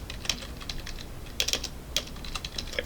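Code is typed on a computer keyboard in Visual Studio: steady, close clicking keystrokes in irregular bursts with short gaps.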